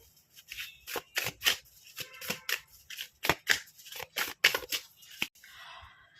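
Tarot cards riffled and flicked in quick, uneven bursts of crisp papery snaps, close and fairly loud with short pauses between, no voice over them.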